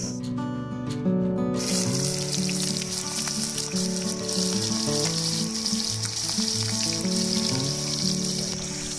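Steady frying sizzle from a pan of mutton curry ingredients cooked outdoors, continuous and close, with faint clinks under it and no speech.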